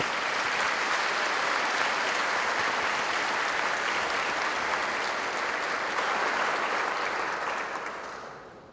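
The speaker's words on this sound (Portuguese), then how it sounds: "Palmas." A church congregation at a Lutheran confirmation service breaks into long, loud, continuous applause that holds steady for several seconds and then tapers off at the end.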